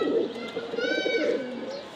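Racing pigeons at a loft after a 61 km tournament flight in bad weather give a close, soft coo with a short rising call, alone and fairly quiet.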